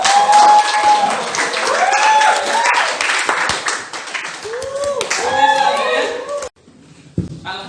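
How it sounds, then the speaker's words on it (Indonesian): Students in a classroom clap after a presentation on manual transmission maintenance, a loud, dense round of applause filling most of the clip before it cuts off abruptly near the end, with voices mixed in. "Kita harus beri tepuk tangan sekali lagi."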